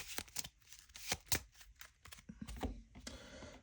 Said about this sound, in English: We'll shuffle this.